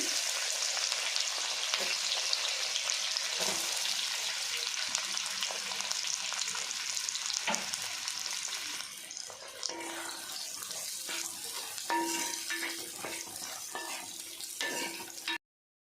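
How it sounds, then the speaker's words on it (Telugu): Onions frying in a pan after cloves, for a cashew paneer curry, make a continuous close hiss and sizzle, with light clinks and scrapes of stirring growing more distinct in the latter half. "దీంట్లో ఉల్లిపాయలు వేపుదామండి"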